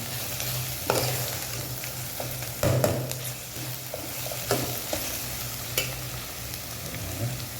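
Onions frying in a pan for drumstick thokku, a steady close sizzle broken by a few sharper scraping stir strokes, with no talking.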